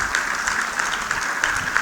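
An audience claps in welcome for Dr. B N Suresh at a Padma awards festival event, a dense steady burst of applause filling the hall without voices.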